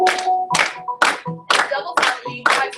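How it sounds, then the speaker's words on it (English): An audience claps along to a slow, steady beat, six firm claps spaced about half a second apart, close and clear, with a faint tonal sound ringing between them. "would y'all like to clap along with us?"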